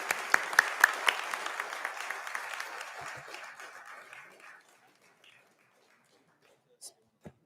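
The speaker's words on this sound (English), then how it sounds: "A round of applause" Applause from a council meeting audience, with sharp individual claps standing out at first, then thinning and fading to a few scattered claps near the end; a voice speaks briefly over it.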